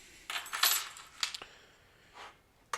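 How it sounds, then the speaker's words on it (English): A bunch of metal keys jangles and clinks in several quick bursts, close and fairly quiet, as they are used to open beer bottles. "The next two are bottles. So I've got my trusty keys."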